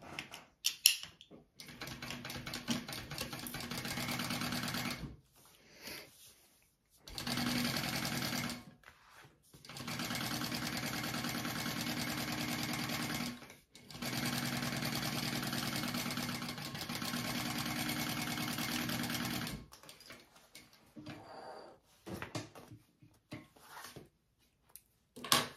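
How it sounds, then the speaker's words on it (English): A sewing machine stitches the top seam of a fabric bag in several steady whirring runs of a few seconds each, separated by quiet pauses, close and alone. "I'm gonna sew at the top at our seam allowance, given in the pattern. And then I will flip it over and top stitch."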